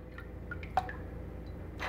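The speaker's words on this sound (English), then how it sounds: "And you got to put your bottle caps in there and make sure you got enough water" Bottle caps drop one by one into sanitizer water for home-brewed beer, making a few small, faint plops and drips spaced irregularly over a quiet background.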